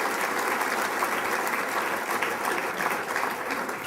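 Steady applause fills a civic hall in Torrance, California, as an audience at the 2014 State of the City address claps continuously and evenly throughout, dense and sustained with no pauses.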